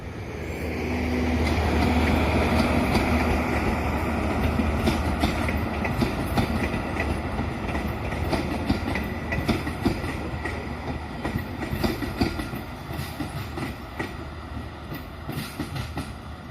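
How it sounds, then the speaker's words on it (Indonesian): Indonesian Rajabasa passenger train, hauled by a CC204 locomotive with a double-traction CC201, rumbling past at close range with steady wheel clatter and rail noise over the whole stretch, engine drone fading slightly toward the end. "kereta api Rajabasanya sudah masuk stasiun Prabu Mulih jalur 3"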